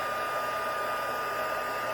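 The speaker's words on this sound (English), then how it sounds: "I'm going to start my heat gun off camera." Constant, even whoosh of a heat gun reaching about 450 degrees running steadily at close range, a smooth hiss with no pauses or voices.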